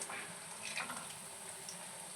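Food fries in a pan at home, a faint steady sizzle and hiss with soft scattered crackles, heard alone.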